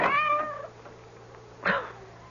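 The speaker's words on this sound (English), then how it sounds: "That cursed cat." A cat meows loudly just outside a front door at night, one drawn-out call followed by a shorter second cry after a pause, with no voices.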